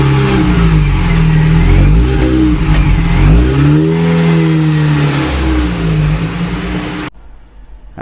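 Race car engines in Forza 7 at Yas Marina, loud revving and accelerating with sweeping pitch rises and falls as cars battle past a Lamborghini, ending abruptly in quiet.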